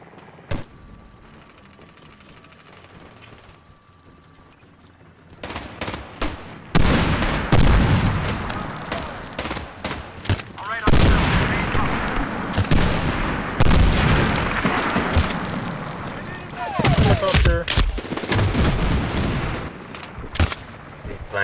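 Gunfire and booming blasts from the video game Medal of Honor Warfighter, loud and dense after a quieter opening, with repeated shots and explosions over several seconds and a few voices talking underneath.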